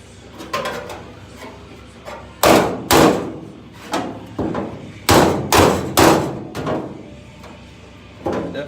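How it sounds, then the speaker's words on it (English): Hard hammer blows strike again and again at an uneven pace, some in quick pairs, with lighter taps between them, close and loud. "just get a bigger hammer."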